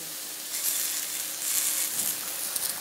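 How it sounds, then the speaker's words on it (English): A single scallop frying in a pan sizzles steadily, a soft crackling hiss that swells and pops in bursts at close range with no voices over it. "I'm cooking one scallop with the raw one."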